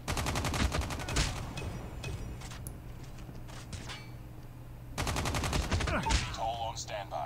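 Call of Duty: Mobile gunfire from a BK57 in gameplay, loud rapid automatic bursts broken by a quieter pause, with in-game effects and faint voice layered in.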